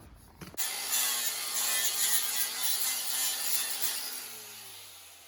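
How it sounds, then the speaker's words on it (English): A power grinder bites into a Harley Davidson metal guard, a loud continuous rasping whine that starts abruptly after a short moment and tapers slightly toward the end. "we're grinding this guard back"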